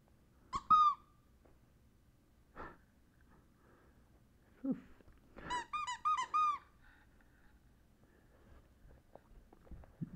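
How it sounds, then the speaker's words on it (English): A dog's squeaky toy gives several sharp, high squeaks, first a lone squeak, then a quick burst of squeaks later. They sound close against a quiet indoor background with a few soft thumps. "Why do you submit to a squeaky toy?"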